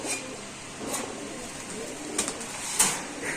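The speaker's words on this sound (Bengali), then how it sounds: "এটা হলো পনেরো নম্বর কবুতর কাছা রেসার কবুতর" Racing pigeons at a seller's loft give soft, low coos in a few separate bursts, with faint chirps and light rustling over a quiet background.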